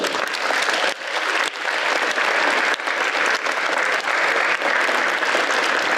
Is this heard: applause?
yes